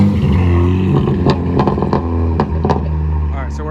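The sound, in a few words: BMW 335i full bolt-on straight pipe exhaust, first warm start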